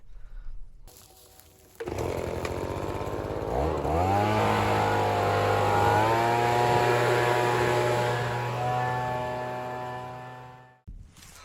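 A leaf blower blasts dust off a General XP4 UTV, starting up with a rising motor whine that settles into a loud, steady close roar before cutting off sharply.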